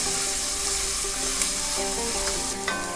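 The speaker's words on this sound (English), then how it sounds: "We're waiting for those onions to caramelize before we add our meat." Onions sizzle steadily as they caramelize in a stew pot, a loud continuous frying crackle with a couple of brief scrapes or stirs, no one speaking.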